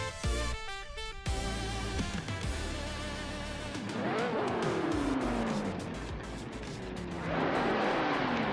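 Lola T70 and Ford GT40 race cars in a video game at the Circuit Gilles Villeneuve Retro track, engines roaring loud and continuous, with rising and falling revs and cars sweeping past, plus a busy mix of game effects in the opening seconds.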